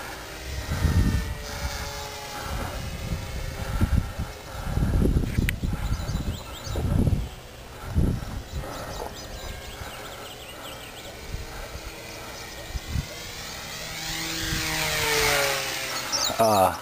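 An 800mm nitro RC Corsair model airplane buzzes overhead, its engine whine rising and falling as it passes, with wind gusts and a voice talking at times.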